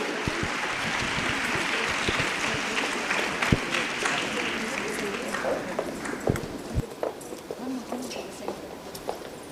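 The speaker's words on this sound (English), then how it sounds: "Let us give a round of applause to Mrs." Applause from a conference audience greeting a guest at a national nursing conference, a steady patter of clapping with scattered sharper claps that thins toward the end.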